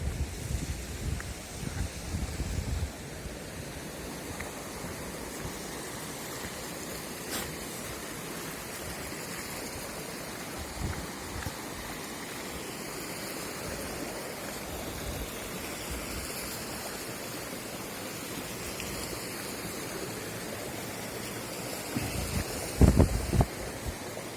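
Steady broadband rush of a mountain stream near Lake Synevyr, continuous and fairly close, with a brief louder splash near the end; no voices.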